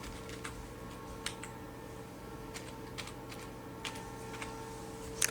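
Close keyboard typing while writing HTML code, sparse clicks scattered over a steady hum, with no talk.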